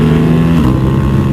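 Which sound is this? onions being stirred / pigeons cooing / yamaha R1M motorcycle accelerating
yamaha R1M motorcycle accelerating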